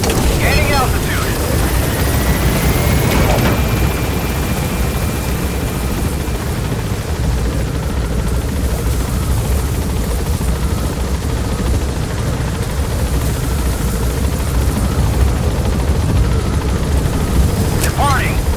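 Helicopter in Metal Gear Solid V gaining altitude, a loud continuous rotor roar with wind-like rush throughout, brief radio-style voices over it.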